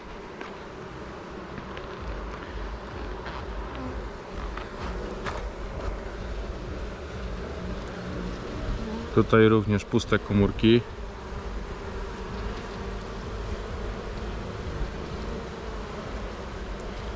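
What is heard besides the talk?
honeybees buzzing on a hive frame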